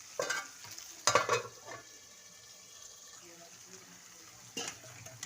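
Potatoes frying in oil in a pan for an aloo curry, giving a soft sizzle with stirring scrapes and brief clatters, moderately close and without talk.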